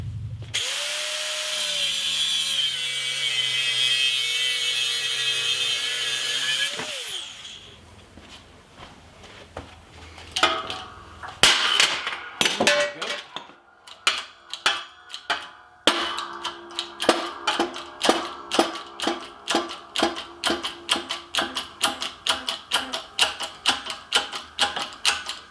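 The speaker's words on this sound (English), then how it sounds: "I'll take the grinder, I'll cut it off across here and take that off" An angle grinder whines loudly and steadily for several seconds while cutting off a Galil rifle barrel, then stops, followed by a long series of sharp, rhythmic metallic clacks and knocks.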